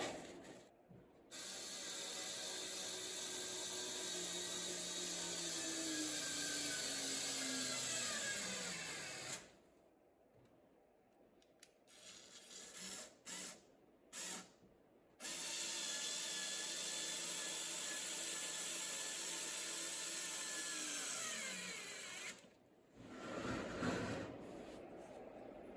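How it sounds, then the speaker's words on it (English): A power drill drives screws from the back into a wooden DIY wine rack, two long loud whirring bursts with falling pitch as each screw seats, separated by a quieter gap with brief handling noises. "And we'll put some screws in it from the back."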